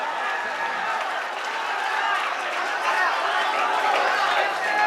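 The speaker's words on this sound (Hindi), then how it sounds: "एक बार जोरदार तालियां बजाइए, जोरदार तालियां" Steady broadband applause from a crowd at a poetry mushaira in India, sustained throughout with a dense wash of clapping and some background voices.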